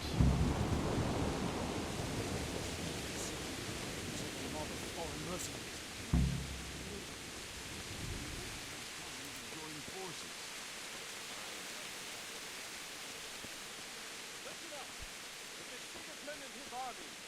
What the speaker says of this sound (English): It's raining a lot.